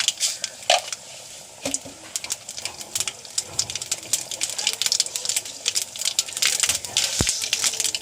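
Mustard seeds spluttering in hot coconut oil, heard as a dense, continuous crackle of sharp pops and sizzling up close, with occasional louder clicks.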